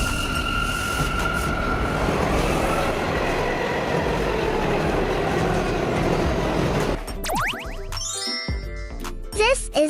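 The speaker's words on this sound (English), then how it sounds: "This is a subway train." A subway train roars along with a loud steady rushing rumble and squealing wheels, then brakes and stops with a chime and door dings.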